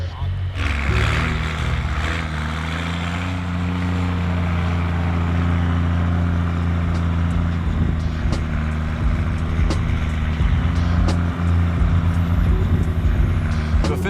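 A vintage truck's engine runs in a snowy Utah setting, with a deep, steady rumble and low harmonic throb. A few clicks and hisses sit on top, and voices talk over it.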